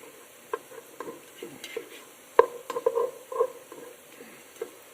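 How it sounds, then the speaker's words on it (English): A spoon stirs chopped vegetables in a pot for red beans, soft scraping and light sizzling with irregular small clicks and knocks, close but fairly quiet, no voices. "So we're gonna keep stirring this here"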